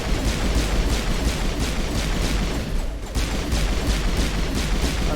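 Dense, continuous gunfire from the video game Mass Effect Legendary Edition, a loud rapid rattle of shots that keeps going without pause and dips only briefly once, with no talking over it.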